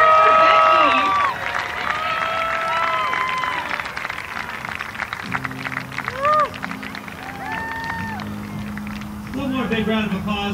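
A crowd at an ultimate frisbee game, Nashville NightWatch at Dallas Roughnecks, claps and cheers throughout, with whistles and whoops rising over it and an announcer's amplified voice heard partway through.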